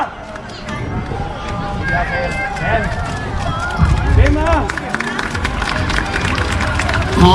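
Crowd applause rolls on at an outdoor lion dance troupe performance, a dense continuous patter of clapping mixed with crowd noise while an announcer talks over it.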